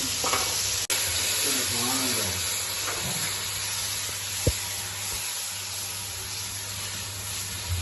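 Tomatoes and spices fry in a pan for matar pulao, making a steady close sizzle and hiss. A few light clinks and scrapes of stirring come through, and a voice talks faintly at times.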